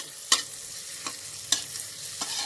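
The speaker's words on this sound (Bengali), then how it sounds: "বাটারটা একটু গলে গেলে এর মধ্যে আদা, রসুন আর কাঁচা লঙ্কা কুচিটা একসাথে দিয়ে দিতে হবে, দিয়ে একটু নাড়াচাড়া করতে হবে" Ginger, garlic and green chilli sizzle in melted butter, with a steady fry hiss broken by four sharp spoon scrapes and clinks as the mixture is stirred, close up and with no talking.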